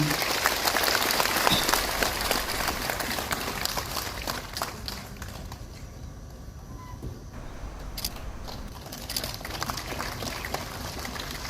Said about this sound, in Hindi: कृपया तालियों से उनका अभिवादन करें